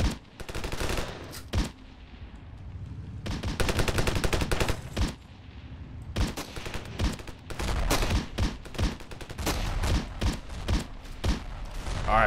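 Dense battle gunfire in the video game Ravenfield: rapid automatic bursts and single shots crack repeatedly, loud and close, with brief lulls between volleys and no talk.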